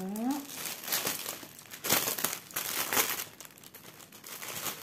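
Paper wrapping on a stamped cross-stitch kit being torn open, a close run of crinkling and rustling bursts spread over several seconds, with a brief voice sound at the start.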